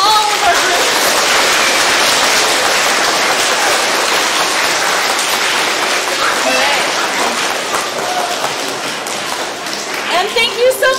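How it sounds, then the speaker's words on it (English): A crowd applauds loudly and steadily after a group exhibition, a dense continuous roar of clapping that gradually thins toward the end as voices come up underneath. "Can we get a big round of applause for all of our groups?"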